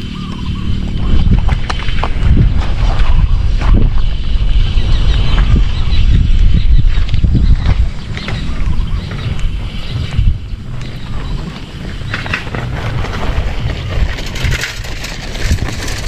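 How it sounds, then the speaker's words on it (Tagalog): Strong wind buffets the microphone outdoors while fishing by the water for snakehead, a continuous roaring gust noise with low rumble throughout, with no talking. "Medyo may hangin dito sa ating kanan"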